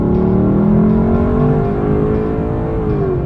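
Lexus LC 500 with its 5-liter V8 revving, a loud steady engine drone whose pitch climbs and sweeps through the gears, close and continuous with no talk.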